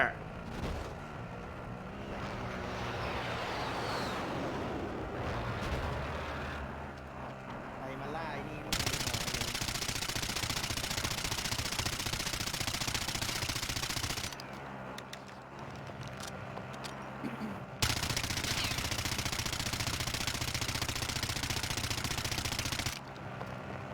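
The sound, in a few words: gunfire in Call of Duty Warzone video game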